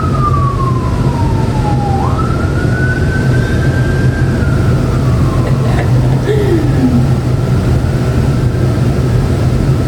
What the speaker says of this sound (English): Hopefully you can't hear the sirens that just went by.